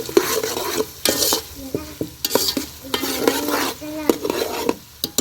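Onions with ginger garlic paste frying in a pan for khushka rice, a close steady sizzle broken by repeated scraping strokes of a metal spoon against the pan as it is stirred.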